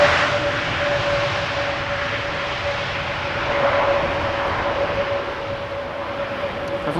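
An Air Transat Airbus A321neo arriving at Schiphol from Toronto, a steady engine hum with a sustained tonal whine, swelling slightly mid-clip before easing off.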